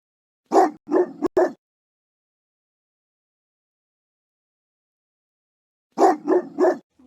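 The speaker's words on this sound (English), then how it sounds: "Dog." A dog barks in two close, loud bursts of three or four yapping barks each, separated by several seconds of silence.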